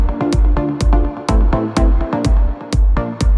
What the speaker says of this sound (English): It's made up with this beautiful synth pluck